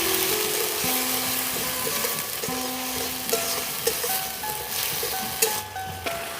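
Turmeric-coloured dal tadka for a vegetarian Bengali recipe being stirred in a pan, a soft even sizzle with light scraping under faint sustained melodic tones.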